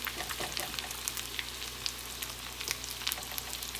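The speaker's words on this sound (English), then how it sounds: "And you just keep on lightly battering this fish, and then throwing them in the grease." Battered sheepshead fish fry in grease with a continuous close sizzle sprinkled with sharp crackles and pops, quiet and steady, over a faint low hum with no voices.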